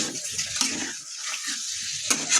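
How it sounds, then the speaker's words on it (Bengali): Chicken pieces and potatoes sautéing in a pan, a moderate hiss and sizzle broken by brief stirring scrapes and clinks of a spatula. "1 কিলো চিকেন আছে এখানে, আলু দিয়ে করবো। একটু কষে নিই"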